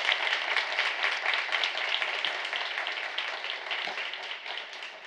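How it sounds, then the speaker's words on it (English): Audience applause after a keynote address at a diversity and inclusion conference, dense sustained clapping from a crowd that holds steady for about five seconds and then begins to taper off. "Let's give her a round of applause."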